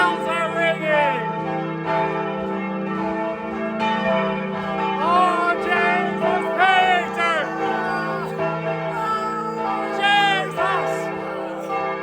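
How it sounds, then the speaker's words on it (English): Church bells ringing in Vilnius, Lithuania, heard from an icy, slippery climb near the top, with steady layered tolling throughout and excited voices calling out over the bells. "But the bells are ringing."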